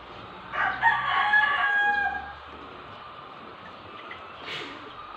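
A Taiwan rooster, newly arrived, gives one full, fairly close crow of about two seconds, followed after a quiet gap by a brief, fainter call.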